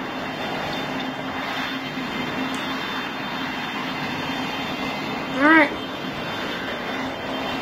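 Aircraft APU and jet engines spooling up in a pilot training simulator game, a steady broadband engine drone held throughout, with a brief tonal chirp near the end and a short spoken word over it.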